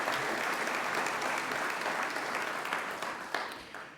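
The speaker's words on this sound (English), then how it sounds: "let's give them another round of applause for everything that they've done" Sustained audience applause fills a grand opening event for Tarleton in Fort Worth, steady dense clapping from a sizable crowd that slowly tapers toward the end.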